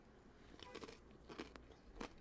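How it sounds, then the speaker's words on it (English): Close, loud crunching of food being bitten and chewed, a few sharp crackly bites spread across a couple of seconds in a quiet room. "Who's crunching so loud? Huh? Someone's crunching the food."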